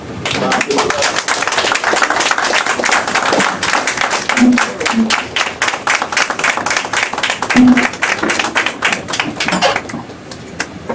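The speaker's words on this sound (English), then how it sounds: "Keep clapping." A crowd keeps clapping steadily, loud and continuous, with a few voices calling out faintly beneath the applause before it tapers off.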